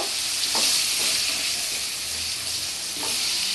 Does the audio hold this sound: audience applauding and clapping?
no